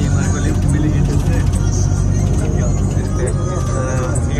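A bus engine rumbles loud and close near a college, a dense steady traffic roar with people talking over it.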